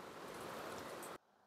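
Steady rain falls on a backyard, a dense even hiss of drops that runs continuously and then cuts off abruptly near the end, with no voices.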